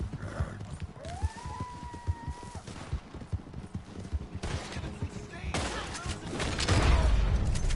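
Horse in the video game Red Dead Online, hooves clopping and a brief whinny as it is stuck on a rock, with bursts of distant gunfire rising toward the end and a voice over it.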